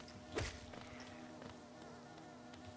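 Flies and bees droning in the hive area of Hollow Knight, a faint steady insect buzz under quiet game ambience with one louder whoosh near the start.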